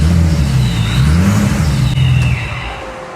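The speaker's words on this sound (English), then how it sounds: "Car stalls out." A car with its fuel pump unplugged cranks and catches briefly, engine rumble rising then fading as it stalls out, loud and close with no talk.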